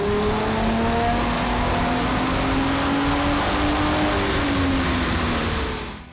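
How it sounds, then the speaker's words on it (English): A stock 2005 Ford Mustang V6 automatic on a dyno, engine roaring loud and steady as its revs climb through a long pull, then cutting off and fading at the end. "we're going to make a stock dyno run so we have some baseline horsepower and torque numbers to work from."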